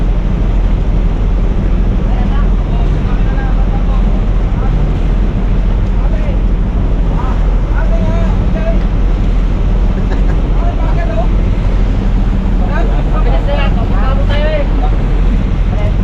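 A boat engine chugs steadily at sea in the West Philippine Sea under constant wind and water noise, while voices talk intermittently in Filipino over it.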